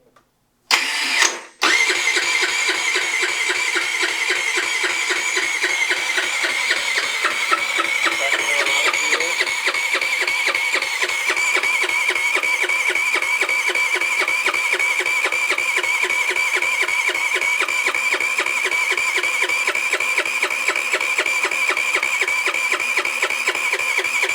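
A 50cc GY6 scooter engine fitted with a big bore kit cranks briefly, then catches and settles into a steady, loud buzzing idle close to the mic, running continuously with no talking over it.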